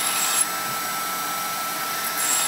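A coarse Scotch-Brite nylon abrasive wheel grinds against a vintage steel axe head to take off sharp edges, giving a steady, loud, close whir that is continuous and even for its whole length.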